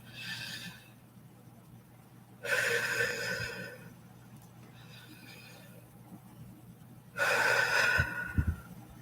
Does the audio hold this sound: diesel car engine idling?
no